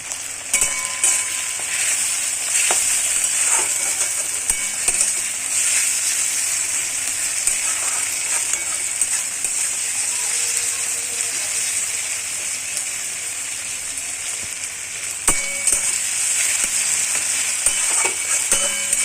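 Tomato and ginger-garlic paste frying in oil, a constant crackling sizzle with occasional stirring knocks and utensil clicks, steady and close.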